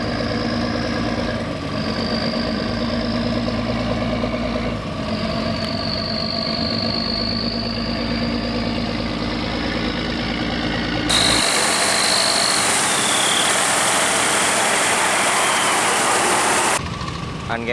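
A heavily loaded stone-carrying boat's engine throbs loudly and close with a steady, knocking low rumble, later joined by a rush of broadband water noise, likely from pumping, that stops abruptly near the end.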